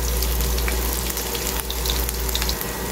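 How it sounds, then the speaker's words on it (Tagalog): Garlic sautéing in a pan for chicken bistek, a continuous close sizzle and crackle of frying oil, steady and fairly loud with no voices. "At saka ako gigisahin yung bawang."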